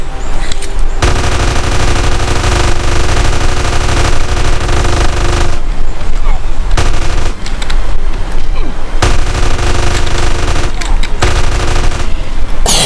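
Rapid automatic gunfire from the game GTA San Andreas, loud and dense bursts of shots filling the whole stretch with brief gaps, under game music and effects.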